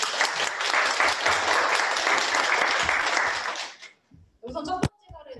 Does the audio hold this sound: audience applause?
yes